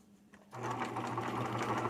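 Sewing machine stitching a patch onto a pair of jeans, its steady rapid whirring starting abruptly after a brief quiet and running close and continuous.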